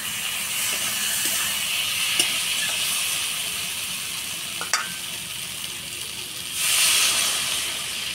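Water poured into a hot pan of potatoes and spices for a fish curry, a steady loud sizzle and hiss with a few sharp crackles, swelling into a louder burst of steam near the end.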